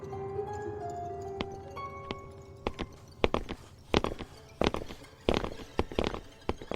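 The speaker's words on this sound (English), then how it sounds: "We stood still as the footsteps got closer." Footsteps approaching through an underground cave in an audio drama, sharp echoing steps that grow louder and more frequent toward the end, over a droning musical background with sustained tones.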